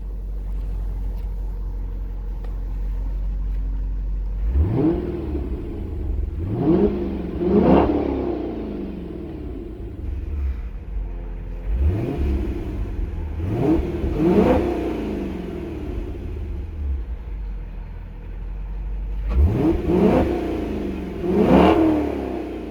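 A 2010 Dodge Challenger SRT-8 V8 muscle car revs in repeated bursts: several sharp throttle blips rise and fall with deep rumbling idle in between, close and loud.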